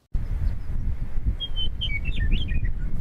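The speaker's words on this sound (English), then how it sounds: "A meadowlark calls a greeting" A meadowlark calls on the eastern plains in a tiny town, a clear run of bright whistled and warbled notes standing out over steady outdoor rumble.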